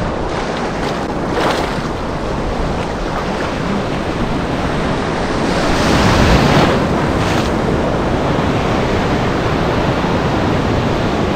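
Ocean surf breaking off a beach in Goa, with water splashing around a GoPro camera: a loud, continuous roar of waves and churning water, heavily buffeted by wind noise, with no one speaking.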